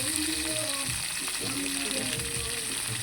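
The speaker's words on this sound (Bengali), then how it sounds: "তো পটলগুলো আমি কড়াইতে দিয়ে দিলাম" Pointed gourd fries in a kadai with a steady, moderately loud sizzle and crackle, continuous and close up.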